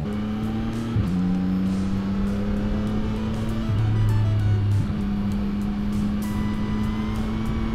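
A motorcycle ridden at night hums loudly and steadily close up, its engine tone stepping up and down with gear and throttle changes under constant wind noise, with no talk.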